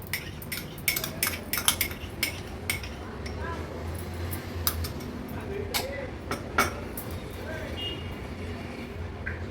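A spoon scrapes and clinks against a bowl in irregular bursts while yogurt and gram flour are mixed, and soft background noise fills the gaps.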